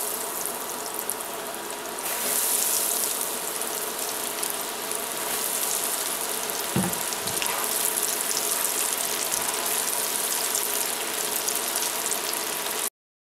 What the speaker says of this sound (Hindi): इन्हें आपने तब तक फ्राई करना है जब तक ये गोल्डन और क्रिस्पी ना हो जाए